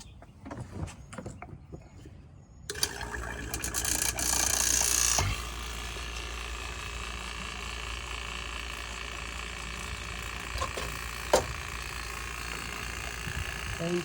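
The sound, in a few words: AC vacuum pump pulling vacuum on 1984 Mercedes 380SL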